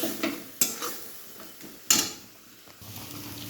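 Ginger-garlic spice paste for a chicken curry is stir-fried in a cooker with a low sizzle, broken by a few sharp scrapes and clinks of a spatula against the metal pot.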